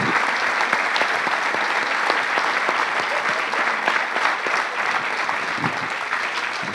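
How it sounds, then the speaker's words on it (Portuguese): A hall audience gives Professor Manuel Sobrinho Simões a dense, even round of clapping that holds at full strength for several seconds, loud and close, with no speech over it. "Uma salva de palmas para o professor Manuel Sobrinho Simões"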